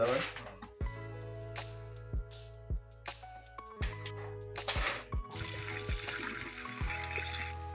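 Raw plantains are rinsed under running water, a soft trickle and splash that swells into a steady flow near the end, with brief clicks and some voices in the background.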